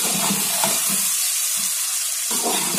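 Onion, tomato and green chilli frying in a pan, a loud close sizzle with stirring scrapes and a short quieter gap before the hiss surges back.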